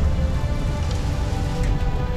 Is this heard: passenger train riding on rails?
no